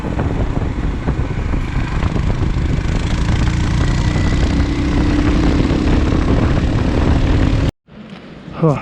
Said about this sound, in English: And I can tell the bike is already struggling here.